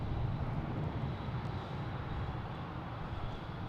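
Steady broadband roar of a Dash 8 turboprop airplane at Boston Logan airport, a continuous engine and air rush heard from a distance without voices.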